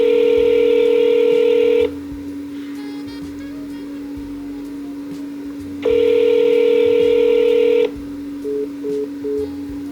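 Tone dialing on a landline telephone: a sustained dual-tone beep, a gap with a faint steady tone, a second long beep, then a few short tone pulses, all loud and close with no talk.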